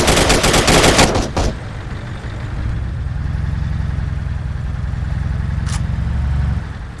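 Video game gunfire during a bank robbery: a loud, rapid burst of shots up front, then a steady engine-like rumble with one brief sharp crack later, no talking.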